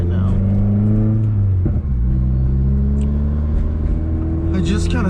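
Tuned 2015 Subaru WRX with an FA20DIT turbo flat-four, heard from inside while driving through a suburb: a steady, loud engine drone that rises and shifts through revs, with a brief dip mid-way and no talking.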